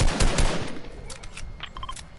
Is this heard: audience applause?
no